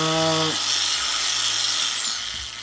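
An angle grinder on weak power gives a short rising whine that settles into a thin, high, steady buzz before fading slightly, heard close with no voices over it.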